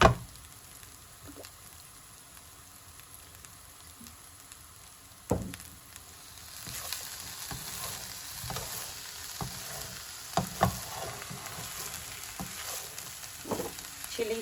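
Vinegar hits a pan of sizzling Indo-Chinese Manchurian: a sharp splash at about five seconds, then a louder, broader frying hiss with intermittent clacks of a stirring spoon, and no voices.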